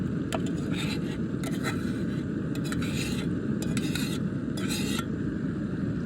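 A spoon scrapes and clinks against a cooking pot while paneer and peas are stirred, with a steady sizzle underneath and a few bright metallic taps in a loose rhythm.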